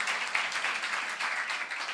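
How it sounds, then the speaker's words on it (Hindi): Congregation clapping during a Hindi-language church worship service, a steady, continuous patter of many hands lasting the whole moment at moderate volume. "थोड़ा ताली बजा रहे तो उसके लिए अच्छा ताली दे"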